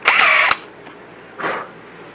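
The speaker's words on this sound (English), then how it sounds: "I just need to drill that deep enough" A power drill boring a hole in soft oak for 3/8-inch plugs: a loud half-second whine that stops abruptly, then a second quieter, shorter burst a moment later.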